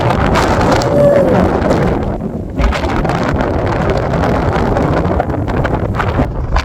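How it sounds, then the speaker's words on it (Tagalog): Strong wind roars and buffets the microphone continuously, loud and close, with gusting rumble throughout and no voices. "Grabe, ang lakas guys ng hangin."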